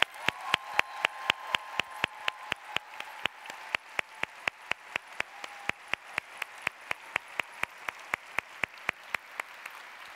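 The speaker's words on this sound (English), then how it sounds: "let's give them a round of applause." Corporate team members receiving applause at a convention opening session, heard as sharp, regular claps close to the mic, beating in a steady rhythm against a softer background of crowd clapping, with no speech.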